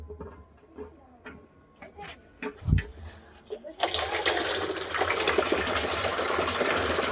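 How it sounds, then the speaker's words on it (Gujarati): Water bursts from a pipe once a domestic pump motor is switched on to refill an emptied supply. Quiet household sounds and talk come first, then a sudden loud, continuous rushing gush takes over and holds steady. "તો અત્યારે તો પાણી આવી ગયું છે."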